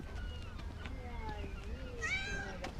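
Cats meowing on the Italian island of Stromboli, a few short mews rising out of a busy outdoor background, with a clearer drawn-out meow near the end under a voice speaking.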